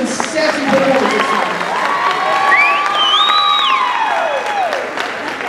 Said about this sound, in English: let's do one more round of applause for the top 10 and their fierce and sassy performances